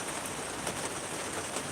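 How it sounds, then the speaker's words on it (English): Steady rain falling, a continuous soft hiss with faint scattered drop patter, even and fairly quiet throughout, with no talking. "did say it was going to rain"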